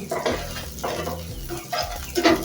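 Sliced bitter gourd (karela) sizzles in a hot pan while a spatula scrapes and stirs it in quick, repeated strokes, loud and close.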